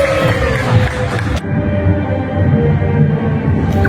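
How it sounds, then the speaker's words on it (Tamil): A crowd at a crocodile show in Thailand cheers and shouts in a loud, dense roar. The roar eases slightly after a sudden dip partway through, then carries on as a steady murmur of voices. "மக்களுடைய ஆரவாரம்"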